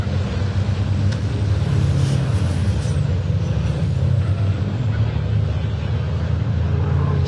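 A DAF XB race truck at Pembrey during truck racing, with a loud, steady engine roar and deep rumble close by throughout, the pitch shifting slightly as it passes, with no voices.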